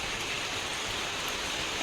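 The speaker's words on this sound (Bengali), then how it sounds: "পুকুরের মধ্যে দেখো জলের পরে বৃষ্টিটা পড়ছে" Rain falling onto a village pond, a soft steady hiss of drops hitting the water surface, even and continuous throughout the brief stretch.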